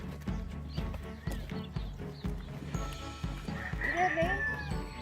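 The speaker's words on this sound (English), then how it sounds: "These are Nubian goats." Nubian goats bleat in a wavering, nasal cry toward the end, over a steady rhythmic thumping and faint background murmur.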